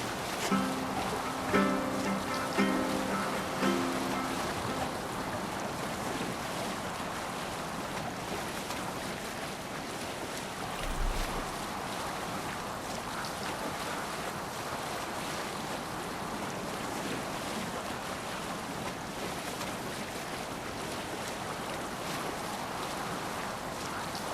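Viking longship under sail in Assassin's Creed Valhalla, a steady wash of wind and waves rushing across the whole stretch, with a few faint tonal notes near the start and a low thump midway.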